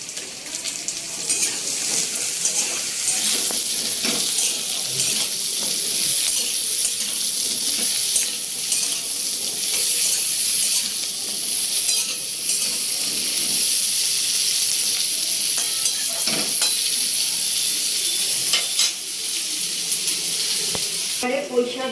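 Chopped vegetables frying in a pan for a Malabar spinach (pui shak) dish, a steady close sizzle and hiss with occasional stirring scrapes throughout.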